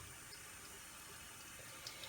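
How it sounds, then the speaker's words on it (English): A bathroom tap runs in a steady, even hiss throughout, with no pauses or splashes standing out. "I'm just in my bathroom, so that's why you hear the water running."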